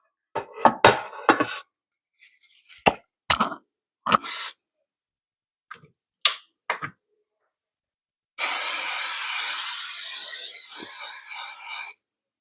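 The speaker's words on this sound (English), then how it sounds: "Now taking the Crisco butter flavored no stick spray." Crisco butter-flavored no-stick spray hissing into a ceramic baking dish, a steady close spray of about four seconds that follows a few short scattered rustles and clicks.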